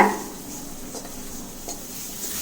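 Curry leaves dry roasting in a kadai over a low flame for coriander powder, a soft, steady papery crackle with a couple of faint scrapes of the spoon, quiet and close.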